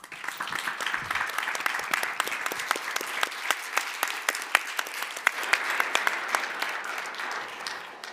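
An audience applauds the panelists at a French-language event on mental load, a sustained crowd of rapid, crisp hand claps that stays loud and fairly even for several seconds before thinning slightly at the end.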